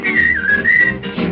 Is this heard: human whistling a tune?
yes